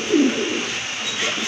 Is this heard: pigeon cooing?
yes